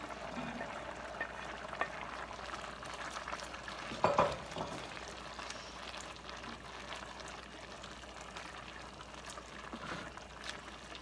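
A soft, steady bubbling of chicken orzo soup boiling in a pot, with a brief clatter of shredded chicken being added around the middle, fairly quiet throughout.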